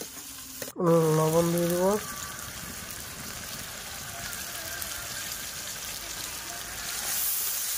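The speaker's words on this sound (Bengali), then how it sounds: "তেল গরম হয়ে গেছে। গরম তেলে আমি পেঁয়াজ কুচিটা দিয়ে দিলাম।" Chopped onion dropped into hot oil in a home kitchen, bursting into a loud sizzle before settling into a steady frying hiss, with a voice speaking briefly over the start.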